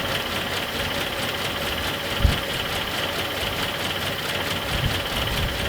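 Nissan 720 ST truck engine idles on its first start in years, a steady close mechanical running drone with a slight knock.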